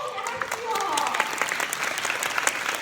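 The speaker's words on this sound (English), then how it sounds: "Can you give a round of applause first of all to Yoshi?" An audience at an entrepreneurs' event in Japan breaks into sustained applause, a steady wash of many hands clapping at a moderate distance, with faint voices mixed in.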